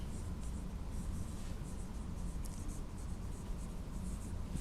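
Marker or chalk writing an equation on a classroom board during a physics lesson on capacitance, a steady faint scratching rub continuing throughout over a low background hum, with no talking.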